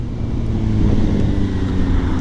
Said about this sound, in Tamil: இப்போ நான் வந்து இந்த பைக்கை கிட்டத்தட்ட ஒரு ஐம்பதுக்கு கொண்டு வந்துடுறேன் ஸ்லோ டவுன் பண்ணிடுறேன்